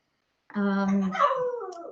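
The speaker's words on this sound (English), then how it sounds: "I've got two very hungry dogs" A hungry dog gives a drawn-out whining yelp that breaks into a higher, wavering whimper, close and fairly quiet after a moment of silence.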